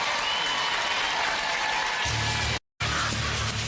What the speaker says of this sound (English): give both teams an enormous round of applause on a great match